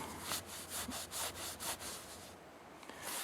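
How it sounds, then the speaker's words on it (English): A polishing cloth rubbing over the steel of a Colt Gold Presidential 1911 pistol in steady back-and-forth strokes, close and soft, with no talking. "take the buffing polishing cloth that he sends with it"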